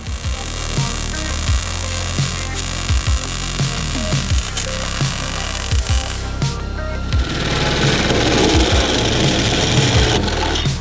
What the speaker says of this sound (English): Just gonna MIG weld it, and then we'll plate it